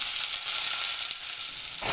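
Curry leaves and spices crackle in hot oil, a loud, bright, steady sizzle that fills the whole short moment with no talking.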